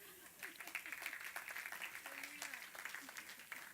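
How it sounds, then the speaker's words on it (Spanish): A church congregation applauds at a modest level for several seconds, the scattered clapping running steadily with a voice faintly audible underneath. "Denle un aplauso al Señor"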